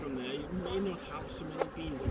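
Honey bees swarm around a hive in a low, steady buzzing drone, close and faint, with a few louder passes and a voice briefly heard nearby.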